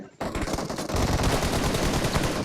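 Dense rapid automatic gunfire from a PUBG Mobile match, a loud continuous burst of shots that starts abruptly and keeps rattling without a break.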